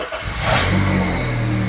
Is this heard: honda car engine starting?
yes